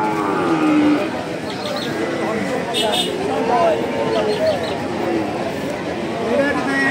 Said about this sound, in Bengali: এই কুরাস জাতের ফ্রিজিয়ান বকনা গরুটা বিক্রি হবে